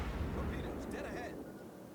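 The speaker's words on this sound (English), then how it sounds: "Judging by the sheer volume of high explosive shells that are being spat out of it, I'm seeing 5 turrets." Harugumo destroyer in World of Warships rapidly firing high explosive shells from five turrets, a dense rumbling barrage of booming gunfire with overlapping blasts throughout, a voice talking over it.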